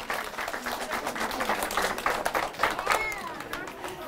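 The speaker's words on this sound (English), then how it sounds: "Round of applause for Dax." Audience clapping at a magic workshop in a public library, a burst of scattered applause from a small crowd lasting several seconds, fairly close, with voices and cheering mixed in.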